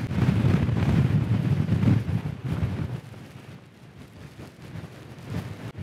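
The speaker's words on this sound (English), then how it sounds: "I've dropped down onto the edge path. Windier, but the views are better." Strong wind buffets the microphone on an exposed coastal edge path, a loud roaring rumble that eases off partway through and then gusts again briefly near the end.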